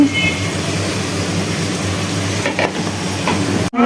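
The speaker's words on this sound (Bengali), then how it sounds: "বেরেস্তার জন্য পেঁয়াজগুলো ভেজে নিব" Onions frying in oil for birista, a steady loud sizzle with occasional stirring scrapes near the end.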